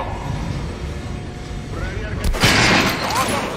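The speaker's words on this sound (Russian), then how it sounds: "Попробуй выстрелить в голову." Sharp gunshot echoing in a concrete shooting range in Metro Last Light Redux as a mannequin is shot in the head, a single loud crack and boom partway through, with someone talking over quiet game ambience.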